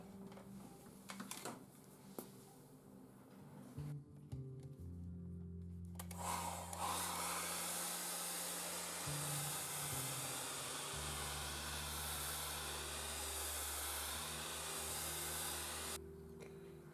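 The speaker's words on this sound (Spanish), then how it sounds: "Y aplico el secador." Hair dryer blowing on watercolor paint, a steady loud airy roar that starts after some light tapping and handling noises, runs continuously with pitch shifts, and cuts off near the end.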